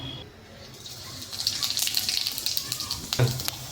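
Whole cumin seeds dropped into hot oil for a spinach roll: a quiet start, then a steady close sizzle that swells and holds, with a soft knock near the end.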